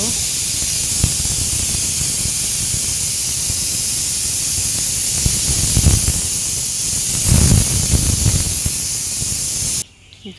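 Hot oil sizzles and spatters loudly in a pan, a dense continuous hiss close by with a brief surge near the end before it suddenly drops away; a voice may be faintly present beneath.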